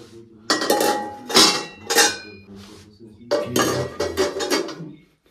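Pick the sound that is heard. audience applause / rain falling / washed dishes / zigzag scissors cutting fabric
washed dishes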